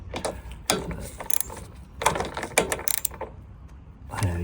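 Close, quiet ratchet clicks and metallic tool handling as parts are tightened down on a Mountfield RS100 lawn mower during a leaking fuel pipe repair, in short irregular bursts with pauses.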